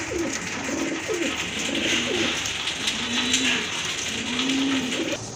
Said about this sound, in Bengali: আরেক জোড়া কবুতর এটা রাজশাহী গিরিবাজ